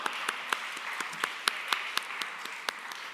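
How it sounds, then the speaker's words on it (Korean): A church college-group congregation applauds during a sermon, a brisk, even patter of many hands with distinct claps standing out, moderately distant and steady throughout. "박수 한번 치겠습니다."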